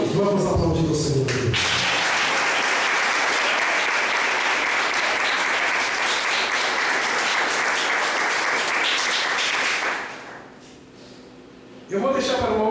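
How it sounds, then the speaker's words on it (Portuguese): A church congregation breaks into loud, sustained applause for several seconds, then fades; a voice is heard just before and right after the clapping. "Vamos aplaudir o Senhor."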